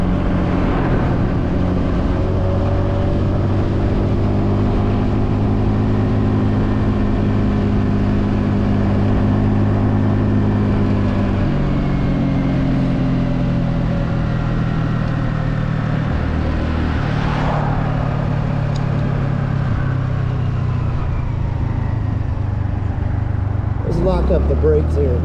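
A Honda Navi motorbike riding on a road on a cold day, its engine holding a steady low drone with gradual pitch shifts as speed changes, and a faint gear or throttle change near the end.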